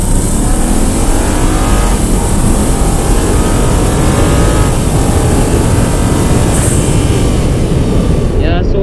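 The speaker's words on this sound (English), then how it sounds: "It's a 4-liter twin turbo V8 engine" A 2013 Audi S8 with a 4-liter twin-turbo V8 accelerating hard, its engine roaring steadily and loudly from up close for several seconds, with voices talking faintly underneath.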